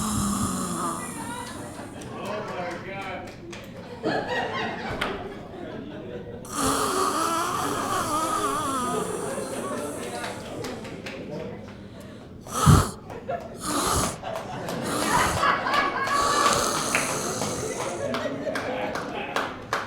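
A voice imitates loud, rough snoring, with drawn-out rasping breaths and a sharp snort partway through, repeated over about twenty seconds.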